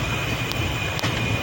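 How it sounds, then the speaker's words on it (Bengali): A MEMU local train runs alongside on the Sealdah to New Jalpaiguri line, heard as a steady close rumble and rail noise with a couple of brief sharp clicks. "ওটা মেমু ট্রেন আছে"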